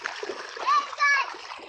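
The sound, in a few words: child splashing in water while playing at Holi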